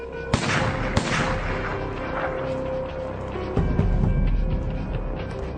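Two sharp gunshot cracks in a documentary sound effect, the first close together at the start, then a heavy thud, all over a dense rumbling backdrop.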